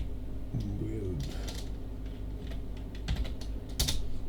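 Keys on a computer keyboard tap in small clusters and single presses at low volume, with short gaps between them and a quiet background hum.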